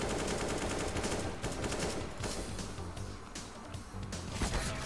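Rapid video game gunfire rattles in dense, continuous bursts for the whole stretch, loud and close.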